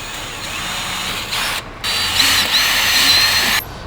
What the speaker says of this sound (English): Alright, now we're ready to drill. Take your 8mm drill bit,